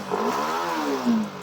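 A K56 engine is started and runs with a short, loud, rough drone whose pitch swells and dips, and no voices are heard.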